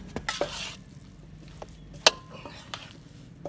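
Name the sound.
stirring potatoes with spice paste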